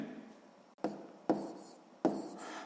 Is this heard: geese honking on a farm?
no